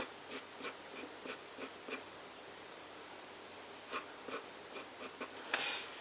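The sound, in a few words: drawing lines on paper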